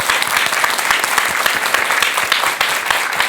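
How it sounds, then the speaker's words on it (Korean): An audience claps warmly for a Buddhist monk after a talk on a Korean broadcast, a dense, steady burst of many hands applauding at close range without pause. "여러분 뜨거운 박수 한번 부탁드릴게요"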